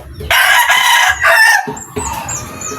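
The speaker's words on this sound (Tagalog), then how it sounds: "Napakagandang manok to mga kaibigan, oh." A backyard game fowl rooster gives one loud, close, drawn-out crow, followed by softer clucking and chirps from nearby birds.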